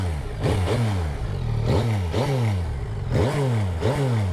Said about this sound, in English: Let's have a listen to them with the exhaust on.